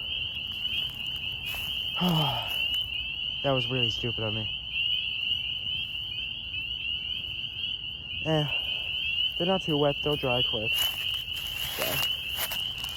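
A tiny frog calling near water during a herping outing: several bursts of rapid, pulsed chirping calls, loud and close, over a constant high insect drone, while someone talks between calls.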